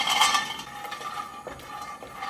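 Raw peanuts rattle and scrape against a wok as they are stirred over the heat, a dry, shuffling clatter with a louder burst at the start, no voices.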